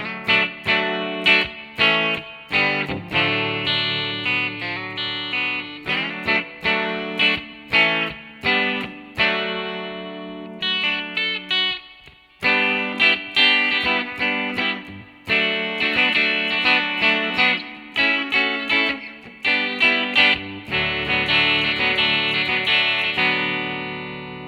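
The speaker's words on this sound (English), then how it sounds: "Guitar solo sounds like this." Electric guitar solo from a song, played as on the record, with a lively run of picked notes and slides, steady and prominent throughout, with no talking.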